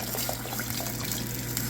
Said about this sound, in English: Gotta put some water in here.